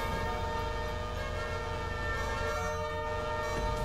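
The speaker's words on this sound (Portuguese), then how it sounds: "Quem é que tá buzinando aí?" Vehicle horns blare continuously in GTA 5, several sustained horn tones layered together into a loud, steady, dense chorus over traffic noise.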